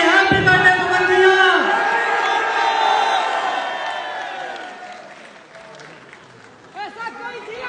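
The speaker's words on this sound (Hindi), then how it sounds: "तालियां बजाइए, हैप्पी बर्थडे पवन भैया" A crowd at a birthday celebration for Pawan Singh claps and cheers loudly near the start, the applause thinning and fading over several seconds while voices and noisy chatter carry on underneath.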